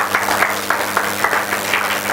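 An audience claps steadily for the woman who judged an engineering college fest, a dense, even patter of many hands over a low hum, with no voices on top.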